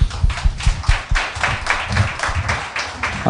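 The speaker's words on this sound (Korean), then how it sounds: "박수 쳐야 됩니다." People clap in a studio talk-show setting, a series of bursts with uneven rhythm.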